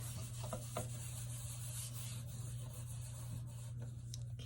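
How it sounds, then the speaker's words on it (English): An alcohol-based scrub is rubbed over a surface before a central line dressing change, producing faint, continuous scratchy rubbing strokes over a low steady hum, with no talking. "I'm going to go ahead and clean the surface that I will be using, so just use an alcohol-based scrub for that."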